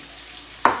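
Tilapia fillet hits a hot pan with a sudden sizzle near the end, a brief loud burst of frying after quiet background.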